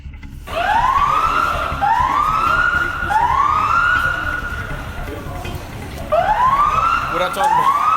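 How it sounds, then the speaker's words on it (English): A tornado warning siren at an Iowa factory wails in repeated rising sweeps, loud and fairly close, with a short gap before the cycle starts again. "Fortunately, the warning siren gave workers time to shelter inside."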